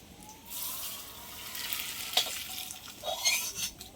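A spoon stirs sugar syrup, with a little lemon juice added, in a pan for crispy khaja sweets; a steady, close scraping swish with soft bubbling sizzle runs throughout, sharpening into a few louder strokes near the end.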